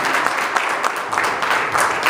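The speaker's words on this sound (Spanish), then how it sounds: "Denle un fuerte aplauso a nuestro Señor, hermanos" A church congregation claps loudly in praise of the Lord during a Good Friday Seven Last Words service, brief continuous applause filling the space.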